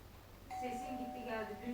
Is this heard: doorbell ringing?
yes